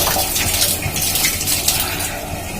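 Water gushes forcefully from an opened PVC valve into a toilet flush tank, a steady, loud, broadband rush that holds constant for the whole stretch with no voices over it.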